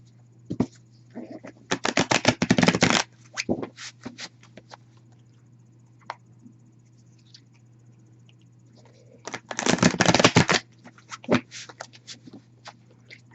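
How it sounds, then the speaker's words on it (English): Two bursts of rapid riffling tarot card shuffles, close and crisp, separated by quiet handling clicks and faint taps, over a low steady hum. "Give these a good shuffle."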